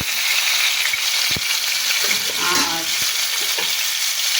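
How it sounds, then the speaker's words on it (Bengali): Three pieces of rohu fish frying in hot oil, a loud continuous hiss with a few soft knocks and stirring noises midway. "মাছ দিয়ে দিলাম আলু দিয়ে এই তিন পিস মাছ রান্না করব হুম এখন আমি ভাজতে দিয়ে দিলাম"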